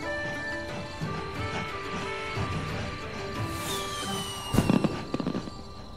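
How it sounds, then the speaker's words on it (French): A fireworks display in an animated cartoon, with distant bangs and crackles over a steady background din, rising into a louder cluster of bursts near the end. "Oh, il est presque minuit et c'est l'heure du spectacle de feux d'artifice de Teddy ?"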